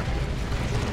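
A Tank Buster Barrage in Dawn of War 2 lands on a plasma cannon as a brief, dull, rumbling burst of explosive noise, low and muffled.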